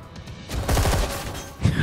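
Gunfire in the underwater shooter Test Chamber: Deep Black, a short burst of rapid shots swelling loud after a quieter opening, with a heavier thud at the end.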